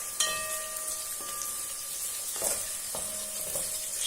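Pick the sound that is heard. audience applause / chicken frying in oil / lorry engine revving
chicken frying in oil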